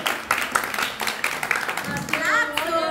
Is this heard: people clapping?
yes